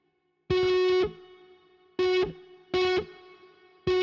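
A distorted electric guitar run through a Polychrome DSP Nunchuck pedal plays several sustained chords, each cut short and followed by a lingering reverb tail that fades slowly into silence, with no talk.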